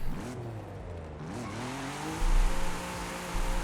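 Engine note of a car drifting and sliding in Forza Horizon 5, a continuous revving hum whose pitch swoops and wavers as the car slides, with louder surges near the end.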